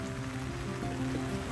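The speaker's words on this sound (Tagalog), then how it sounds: "Pag ganito na umuulan." Rain falls steadily on a farm where chickens and ducks are kept, a dense even patter with no pauses and no talk.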